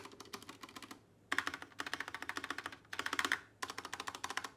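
Corsair mechanical keyboard with stabilized keys typed on in quick bursts, crisp clacking keystrokes in rapid runs separated by short pauses, close and clear.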